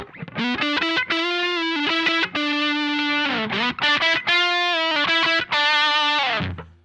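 A heavily overdriven electric guitar on the neck pickup, through a Mad Professor Little Green Wonder pedal, plays a sustained, distorted melodic line with warm, thick tone, loud and up close.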